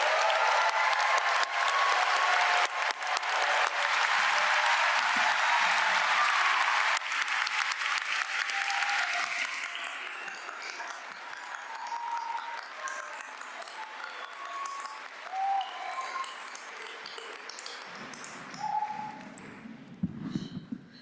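Audience at a law school commencement ceremony applauds award winners: steady, loud, dense clapping from a large crowd that fades to scattered claps and ends in a brief voice.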